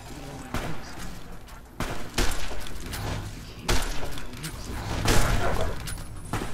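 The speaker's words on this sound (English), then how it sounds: "varmint rifle" Varmint rifle shots crack out in Fallout New Vegas, a few sharp bursts spaced seconds apart over a constant game backdrop, with a voice talking between shots.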